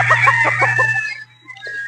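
Boston Roundhead rooster crowing nearby, a loud multi-part cock-a-doodle-doo call, followed by a short pause and a fainter trailing squawk.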